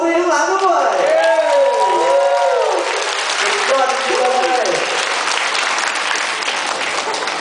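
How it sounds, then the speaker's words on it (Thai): An audience applauds for a band at a live Thai show, a dense burst of clapping that carries under someone talking loudly over a microphone. "ขอเสียงปรบมือให้กับวงดนตรีข้างหลังด้วย"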